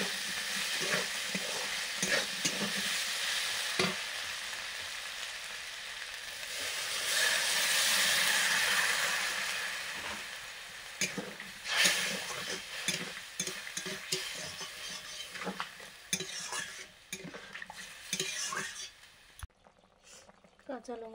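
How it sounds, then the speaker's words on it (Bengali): Poppy seed paste is stirred in a hot pan for aloo posto, with a steady sizzle and frequent utensil scrapes, a louder frying surge in the middle and quieter clinks near the end, with a voice speaking briefly. "পোস্ত বাটা, পোস্তটা দিয়ে একটু নাড়াচাড়া করে জল দিয়ে দেবো"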